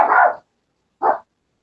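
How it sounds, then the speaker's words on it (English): A dog barks twice, a longer loud bark followed after a short pause by a shorter one, close and clear with silence around them. "My dog's going crazy here."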